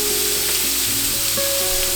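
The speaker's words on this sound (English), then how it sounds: "Which means it's sauteing. I'm just going to quickly give it a little bit of a stir and let it continue on softening." Chicken livers sautéing in a pan with a little coconut oil, a dense steady sizzle throughout with a tonal whine alongside, briefly stirred, no voices.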